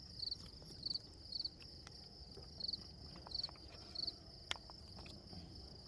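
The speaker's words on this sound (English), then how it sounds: "There's a lot of crickets out right now." Crickets chirp at night in a cemetery, their regular pulsed trills repeating steadily about twice a second over a quiet outdoor hush, with a faint occasional click nearby.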